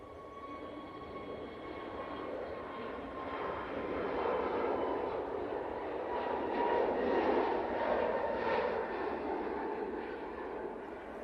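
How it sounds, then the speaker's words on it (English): An EasyJet Airbus A321neo departs Manchester Airport for Malta, its jet roar moderately distant and swelling gradually louder toward the middle before easing slightly, with no talking. "we will be getting ready for our first departure, which will be this EasyJet A321neo"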